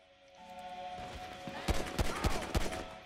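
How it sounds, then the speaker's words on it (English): Gunfire in the video game GTA 5: a burst of several sharp, loud shots from about the middle onward, spaced roughly every third of a second, over a steady game background hum. "Start shooting."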